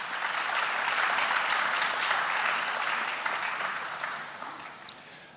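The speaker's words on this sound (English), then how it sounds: "Give them a round of applause again." A panel audience at a legal practice management event breaks into sustained applause that stays full for several seconds, then thins and tapers off toward the end.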